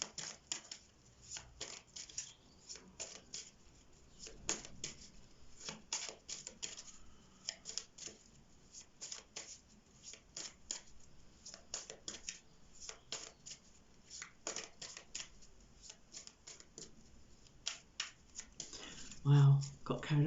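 Tarot cards are shuffled over and over in a long run of close, light, irregular slaps and riffles, fairly soft, continuing steadily almost throughout.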